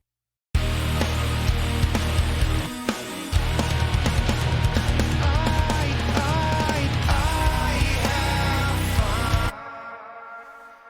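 A dense musical mix in Reaper with a reversed vocal take as a smeared, backwards-swelling texture running through it, loud and continuous before dropping away near the end.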